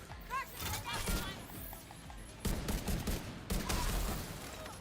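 Rapid bursts of cannon fire from a weapon in The Division 2 shooter game, sharp shots arriving in quick repeated groups with dense game effects and music layered beneath.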